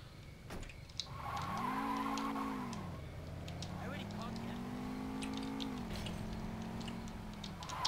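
A car in the Saints Row 2 video game revs its engine with rising and falling pitch while tires squeal in a long skid, the engine droning on steadily for several seconds.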